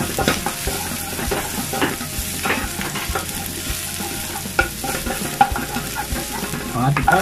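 Garlic frying in oil for chicken igado, a loud, dense, continuous sizzle close by with crackling pops and occasional spatula scrapes throughout, no voices.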